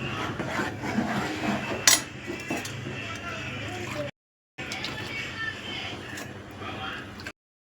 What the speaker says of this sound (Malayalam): ഇളക്കി കൊടുക്കാം.